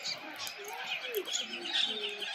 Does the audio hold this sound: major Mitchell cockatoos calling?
yes